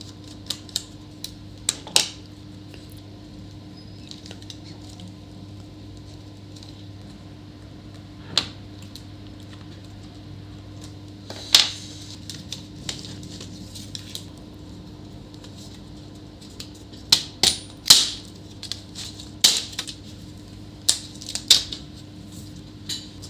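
Keyboard on a Lenovo IdeaPad 320 laptop being fitted during replacement, heard as scattered small plastic clicks and taps, alone and in clusters, over a quiet steady hum.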